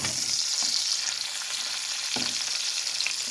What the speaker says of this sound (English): So I just got some butter melted in my pan and a frozen thing of chicken.